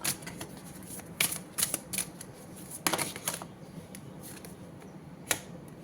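Oracle cards being shuffled by hand, soft papery riffles and flicks in irregular bursts over a steady background hiss, close and fairly quiet with no talking.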